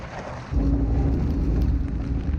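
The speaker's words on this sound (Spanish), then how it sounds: "sí que está lloviendo ahora" Rain falling at an outdoor amusement park, a steady broadband hiss that swells louder after a moment and keeps pouring, with low rumbling mixed in and no talk.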